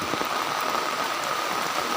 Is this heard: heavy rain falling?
yes